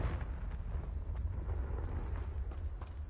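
A Bombarda explosion spell effect from a video game rumbles as a dense, low blast with scattered crackling pops, moderately loud and continuous across the few seconds, and no one speaks over it.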